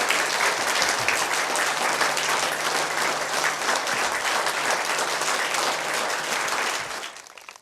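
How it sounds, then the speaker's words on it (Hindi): An audience claps loudly and steadily for several seconds, a dense wash of applause that fades out at the end. "जोरदार तालियां इनके लिए।"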